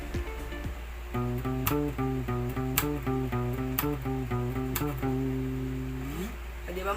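Fingerstyle guitar bassline plucked with a string-slap trick, each low note paired with sharp percussive slaps in a steady groove, close and clear, ending on a sliding note.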